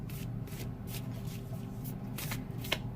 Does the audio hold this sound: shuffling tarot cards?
yes